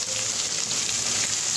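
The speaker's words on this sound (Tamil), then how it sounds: "பட்டை, லவங்கம், கொஞ்சம் பிரிஞ்சி இலை இதெல்லாம் போட்டு நல்லா வதக்குவோம்" Whole spices, cinnamon, cloves and a bay leaf, sizzle steadily in hot oil in an Indian home kitchen, making a continuous close frying crackle with no talking.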